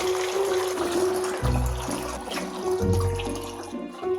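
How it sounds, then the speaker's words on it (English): Water pours into a bottle in steady trickling bursts, with a rising gurgle as the bottle fills, heard close and alone. "The legendary master of water pouring strikes again."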